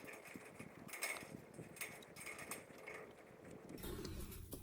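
Fencing pliers twisting two strands of wire tight while building a corral-style hog trap, giving faint repeated metallic clicks and scrapes in a quiet outdoor setting.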